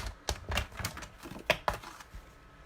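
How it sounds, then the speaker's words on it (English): Two sheets of Whisper White cardstock being cut together at close range: a series of crisp, sharp clicks and snips at uneven intervals, the loudest near the middle, with no one talking. "I'm going to cut these together."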